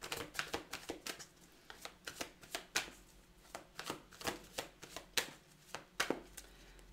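A deck of tarot cards is cut and shuffled by hand, producing a string of quick, crisp flicking snaps in an uneven rhythm, close and quiet with no talking.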